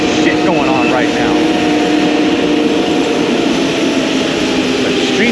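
Loud, continuous roar of a street sweeper and construction vehicles by a highway, heavy engine rumble and clanking, steady throughout, with a voice speaking over it.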